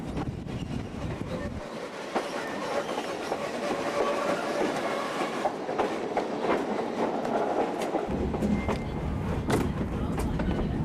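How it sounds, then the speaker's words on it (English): A steam locomotive, Strasburg Railroad No. 475, pulls a train past with steady clickety-clack of wheels on rails, loud and continuous, with a deep low rumble swelling and fading. "The locomotive pulling our train today is old number 475."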